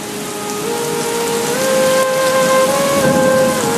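Rain pours with thunder in a steady, loud wash of noise that swells slightly over the stretch, with faint sustained tones drifting underneath.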